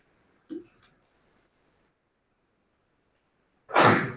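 A short, sharp burst of noise near the end, like a sudden sneeze, after a faint brief vocal sound and near silence.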